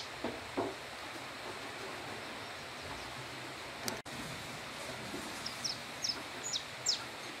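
A bird calling outdoors on a countryside farm, several short high chirps repeating in the later half, faint and somewhat distant over steady wind-like background noise.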